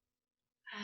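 A single audible breath out, starting after a moment of silence and swelling quickly, taken by a person doing a yoga flow, close and soft with an airy, sigh-like quality.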